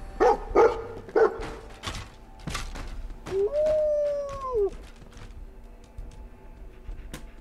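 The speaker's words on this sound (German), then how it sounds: "Hund hat etwas gefunden." Dog in Fallout 4 gives a few quick barks, then a drawn-out rising whimper or whine, with faint game ambience and a soft click between.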